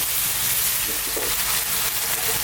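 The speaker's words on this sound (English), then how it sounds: "What we're going to do now is fry these around for about 3 to 4 minutes." Beef curry ingredients fry over high heat in a pan, a steady close sizzle and hiss with faint stirring movement, no voices.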